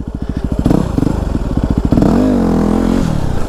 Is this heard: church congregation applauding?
no